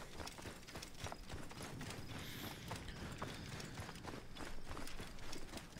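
Horse hooves clip-clop steadily in Assassin's Creed Origins, a soft rhythmic run of hoofbeats at a quiet level, with faint game ambience underneath and no speech.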